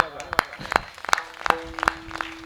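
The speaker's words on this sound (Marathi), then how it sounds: "वा, टाळी वाजवा" An audience at a kirtan claps in a steady rhythm, about three sharp claps per second, close and fairly loud, with a held tone sounding underneath partway through.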